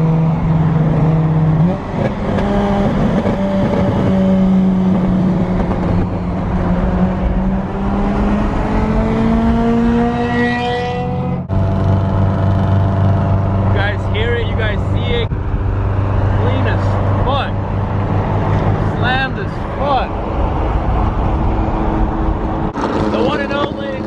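Cars cruise and rev at a Santa Clara cars and coffee meet in April 2023, with loud engines accelerating and passing close by and people talking over the steady traffic noise.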